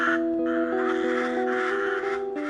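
A crow caws repeatedly in loud, harsh, closely spaced calls right near the listener, with no other sounds around it.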